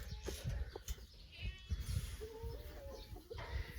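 Goats in a farm barn bleat now and then, waiting to be fed oats, with a few short calls rising over low rumbling background noise and some chicken-like chatter nearby.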